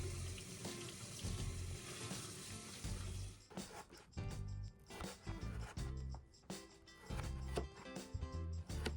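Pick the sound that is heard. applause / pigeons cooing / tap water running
tap water running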